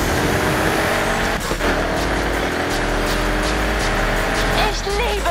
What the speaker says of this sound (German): Ich liebe den Klang dieses Motors.